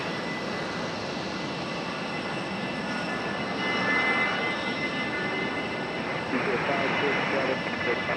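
A Frontier Airlines jet airliner arrives at Raleigh-Durham International Airport on runway 23 right, its engine roar steady and moderately distant. The sound swells slightly partway through, and a voice talks over it.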